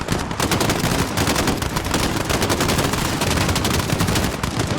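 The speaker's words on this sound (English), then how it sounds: "We're taking fire from the residence." Intense, continuous gunfire from Modern Warfare during an embassy defense, with overlapping rapid shots forming a loud, unbroken barrage throughout.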